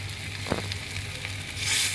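Food frying in a pan with little oil gives a steady, close sizzling hiss throughout, with a brief faint clink early on and the crackle swelling louder toward the end.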